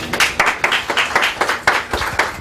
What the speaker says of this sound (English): Clapping for Jackie, not the poem